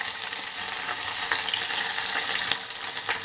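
Moringa leaves frying in melted butter while being stirred, a loud dense crackling sizzle that runs throughout with faint scraping and a small clink, no voices.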